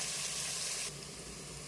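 Onions and green chillies frying in oil for a Telugu-style mutton biryani, a steady close sizzle that drops to a softer, quieter hiss about halfway through.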